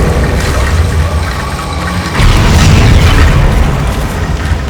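A Confringo spell explosion in the Hogwarts Legacy video game, a loud booming burst rising out of constant heavy game rumble, with a second swell of blast noise following midway.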